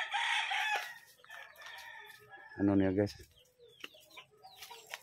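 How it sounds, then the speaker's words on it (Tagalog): Rhode Island chickens cluck and cackle nearby on a farm, with a loud harmonic squawk midway and scattered softer clucks, while someone talks over them. "yung Rhode Island yung manok guys, no? So yan oh. So yan guys ang kaniyang mga manok guys."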